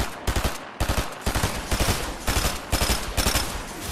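Rapid bursts of automatic gunfire in Fortnite crackle loudly and continuously, with short gaps between volleys and no voices.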